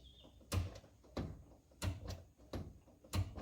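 A car seat in a Subaru creaks with four or five separate dull creaks and pops, spaced about a second apart, fairly quiet and close, with no voices.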